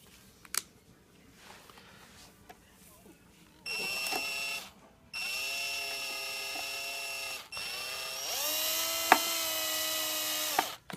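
A power driver runs screws into a hoverboard being reassembled after a lithium battery replacement: three loud, sustained whirring bursts, each a couple of seconds long, separated by short pauses and faint handling clicks.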